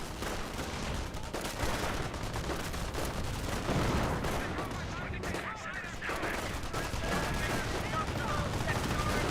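Continuous battle din from the real-time strategy game Company of Heroes, with mortars firing amid dense, steady gunfire and explosions, loud throughout with a voice talking over it.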